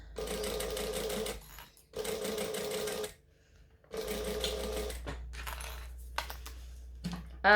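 A sewing machine top stitches down the sides of a fabric and vinyl wristlet in several loud, rapid bursts of stitching, separated by short pauses and a few small clicks.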